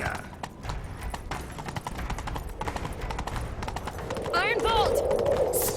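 Hooves clip-clop in a quick galloping rhythm in the video game The Witcher 3, with a horse whinnying near the end over an ambient outdoor backdrop.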